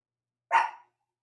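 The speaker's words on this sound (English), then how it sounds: "I'm going to mute my dog now." A single sharp dog bark, short and fairly close, standing alone against silence.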